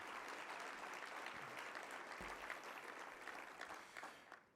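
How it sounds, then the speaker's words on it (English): Sustained applause fills a large hall at an annual association meeting, a faint, even wash of many hands clapping without pause and trailing off slightly at the end. "So let's give Nancy another round of applause for her dedication and spirit to the organization"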